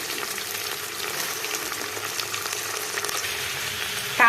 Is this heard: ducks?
no